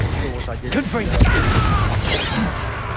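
A Confringo fire spell bursts in Hogwarts Legacy, a single sharp explosive impact with crackling debris amid game effects, while a voice speaks around it.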